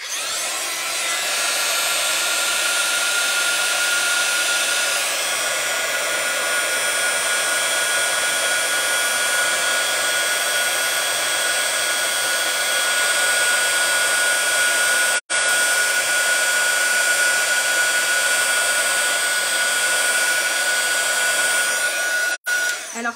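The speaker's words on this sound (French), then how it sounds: "on va prendre le pistolet chauffant" A heat gun blows steadily for about twenty seconds, a loud, even, broadband hiss with a faint whine. It cuts out sharply for an instant near the fifteen-second mark and again just before the end.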